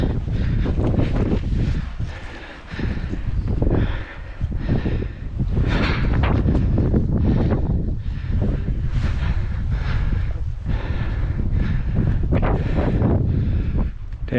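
Strong wind gusting hard across the microphone during an off-road camping trip in Oregon, a loud, roaring buffet that surges and dips in waves, broken by a few faint voices.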